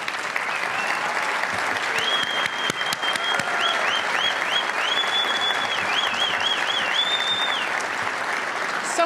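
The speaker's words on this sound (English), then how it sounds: "let's give them a round of applause" An audience at a business group's annual meeting gives the standing staff a steady, dense round of applause that holds throughout, with a shrill whistle weaving through the middle and a faint voice underneath.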